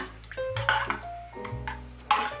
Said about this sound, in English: I'll just take the spoon and stir it